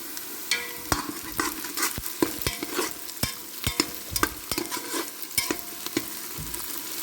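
Shallots and green chillies sauté in a pan while a spatula scrapes and clacks against the metal in sharp, irregular strikes over a steady soft sizzle, up close and with no voices.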